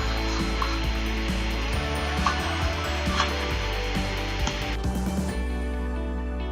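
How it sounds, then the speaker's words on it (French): Sanding with coarse-grit sandpaper by hand, steady rhythmic scraping and rubbing strokes heard up close at moderate volume, with no talk. "je vous reprends tout de suite après quand j'aurai fini de poncer avec le gros grain"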